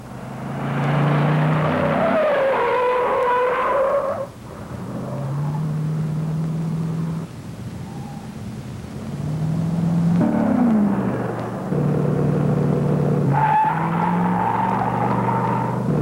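A 1973 Buick GS Stage 1 with a 455 engine drives hard, its engine droning loudly and steadily as tires squeal in several long, close bursts.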